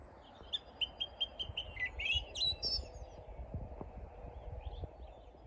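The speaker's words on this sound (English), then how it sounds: "Descending warble of the Willow Warbler." A Willow Warbler sings its descending warble during a dawn chorus, a short run of sweet high notes dropping in pitch, fairly close, over a soft rustling outdoor background with fainter birds later.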